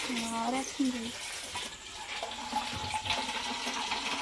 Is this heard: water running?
yes